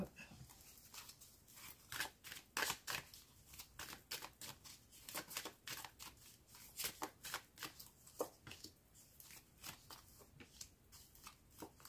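Tarot cards being shuffled for a reading, a quiet close series of rapid papery riffles and flicks in uneven bursts, with no talking over them.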